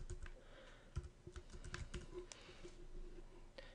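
Typing on a computer keyboard, a quiet run of uneven key clicks and taps close by, alone with no talk.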